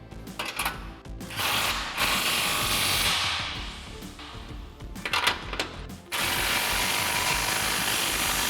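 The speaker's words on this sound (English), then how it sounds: "line everything up where we want it and then fully tighten down all of our clamps" Hand ratchet tightening exhaust clamps during a MagnaFlow direct-fit muffler install on a 2014-2022 RAM 2500 6.4-liter truck, bursts of quick clicking strokes with short pauses between, close up.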